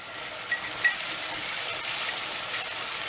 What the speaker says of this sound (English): now I'm going to add in frozen ginger and garlic cubes and just give that a stir until it melts